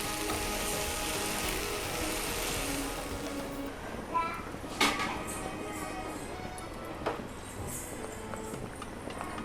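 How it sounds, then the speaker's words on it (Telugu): Okra sizzles steadily in an oiled pan for a Telugu okra stir-fry, a continuous close frying hiss with a few brief clinks partway through. "ఇది కూడా కొంచెం వేయించుకోవాలి."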